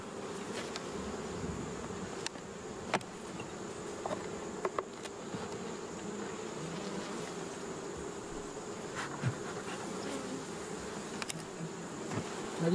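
Honeybees hum steadily around an opened two-box hive outdoors during an inspection, with a continuous close buzzing drone and occasional individual bees passing near, with light clicks and handling noises throughout.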